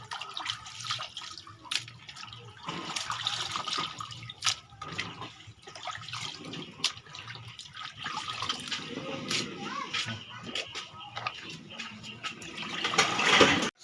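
Duck meat being rinsed under running water, with splashing, dripping and sloshing in a sink, irregular and close, growing louder toward the end.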